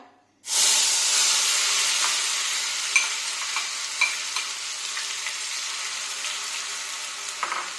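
Ground pumpkin paste drops into hot oil with a sudden loud sizzle that settles into a steady, close frying hiss. Scattered small pops and crackles continue throughout, with no voices.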